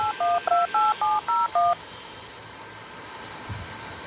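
Touch-tone dialing over a speakerphone, about seven quick evenly spaced DTMF beeps, clear and close, followed by a near-silent pause with faint background hiss.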